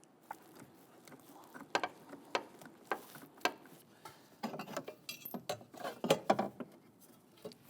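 A ratchet tightens a bracket bolt on the driver's side of a Jeep Grand Cherokee during an ignition coil boot replacement. Close, quiet ratcheting clicks come in uneven bursts with short pauses, and no voice is heard.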